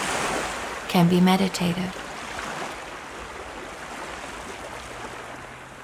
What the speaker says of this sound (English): lulling, breaking of water unto sand or rock